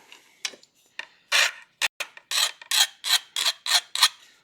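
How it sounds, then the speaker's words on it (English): A chainsaw file rasps on silver scrap in a steady rhythm of short, close strokes, about a dozen scraping passes with brief pauses between them. "So we'll use a chainsaw file."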